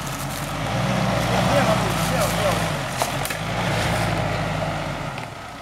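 A truck engine drones steadily as the vehicle backs up on weak tires, a loud continuous low rumble that swells and eases slightly, with voices talking over it.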